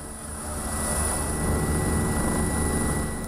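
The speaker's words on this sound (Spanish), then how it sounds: "El ejército rastrea las zonas más afectadas en helicóptero" Army helicopter flying over flood-hit areas, a steady rotor and engine drone with a constant high whine, moderately loud and continuous with no voices.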